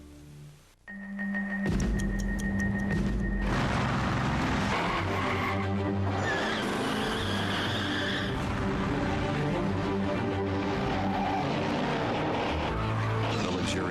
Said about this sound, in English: Nissan Maxima is one of the 10 best engines in America